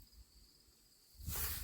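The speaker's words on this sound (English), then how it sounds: "oh damn, a damn cicada" A cicada keeps up a thin, steady high whine, then bursts into a sudden loud, harsh buzzing rasp close by for the last half second. No talking.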